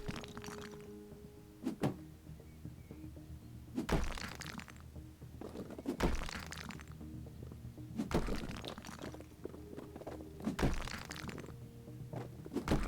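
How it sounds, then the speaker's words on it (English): Walls being smashed down in the House Flipper renovation game, a series of heavy thuds and crunching impacts every two seconds or so, spaced out and moderately loud with no talking. "Now we're going to destroy the walls."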